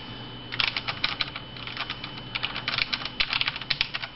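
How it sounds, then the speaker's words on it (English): Someone types on a MaxKeyboard Nighthawk X8, pressing each key fully down. The keystrokes make a fast, steady run of crisp, close clicks with no voices. "That's me pressing the keys all the way down."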